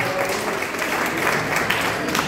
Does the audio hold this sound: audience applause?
yes